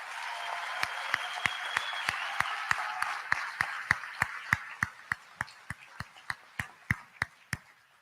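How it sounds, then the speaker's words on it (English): A graduation audience at a class of 2023 commencement applauds. The broad clapping thins and fades while one nearby person keeps clapping in sharp, evenly spaced claps that grow more prominent toward the end. "Let's give them another round of applause."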